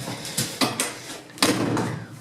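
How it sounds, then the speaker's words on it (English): The door of an enclosed trailer is pushed shut with a few hollow thuds and knocks, followed by a sharper slam and a rattling boom, close by with no talk. "Close the door"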